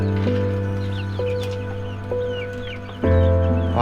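Chickens on a poultry farm cluck in a steady, close series of short calls, with a louder burst of clucking near the end and no talking.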